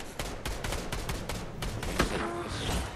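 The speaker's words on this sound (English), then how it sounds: "somebody else shooting me" Rapid bursts of video-game gunfire in Fortnite, a dense run of sharp shots in the first two seconds followed by a louder blast and continuing noisy action, with no talk.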